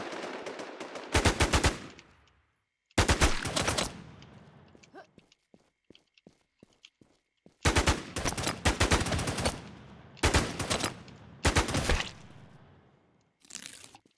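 Gunfire in the online survival video game WarZ, several loud bursts of rapid automatic shots separated by quieter gaps with faint clicks and shuffling, close and harsh.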